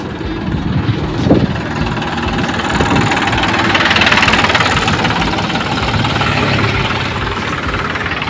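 A tractor stopped on a highway with its engine idling, a loud continuous rumble and knock holding steady throughout, with no talk over it.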